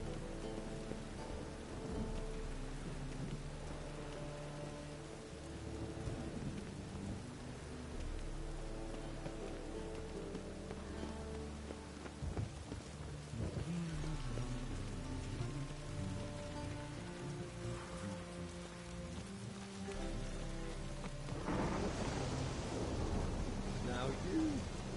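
Steady rain patters down with low rumbles of thunder in the game The Witcher 3, under a layer of music and faint background tones.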